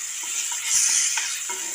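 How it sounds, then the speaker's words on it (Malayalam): Ripe jackfruit pulp frying in a pan for jackfruit pickle, a steady hissing sizzle with faint stirring scrapes, close and even throughout. "ചക്ക നമുക്ക് ആ പഴം നമുക്ക് നന്നായി വറുത്തെടുക്കാം"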